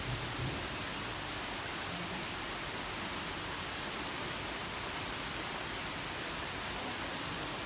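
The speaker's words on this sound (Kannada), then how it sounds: "ಜೋರಾಯ್ತು ಮಳೆ." Heavy rain pouring down in a dense, constant hiss, steady and enveloping from start to finish, with no voices over it.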